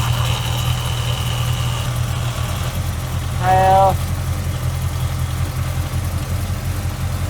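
A car engine idles steadily after a muffler change, a low, even rumble that continues throughout, with a brief voice cutting in partway.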